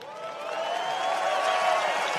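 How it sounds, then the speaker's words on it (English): Applause from a crowd rises gradually into a steady, moderate wash of clapping, with a voice faintly audible over it. "big round of applause there"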